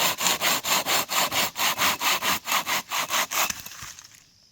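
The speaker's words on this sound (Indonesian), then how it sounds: "kita digergaji cukup capek" A hand saw cuts through a tree fern trunk outdoors near forest and mountains, making about fourteen rhythmic back-and-forth rasping strokes, loud and close, before the sawing stops and fades out.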